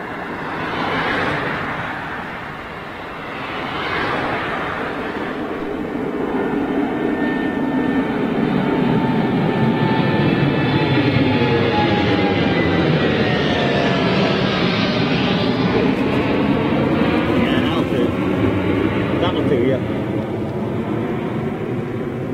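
A jet airliner departs Gatwick Airport with a loud, sustained engine roar that builds and holds, its whine sweeping slowly in pitch as the aircraft climbs away, no talk over it.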